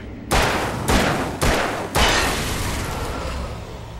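Four loud, sharp gunshots ring out from a handgun in the Alan Wake video game, spaced about half a second apart, each with a reverberant tail that lingers over a steady low ambient drone.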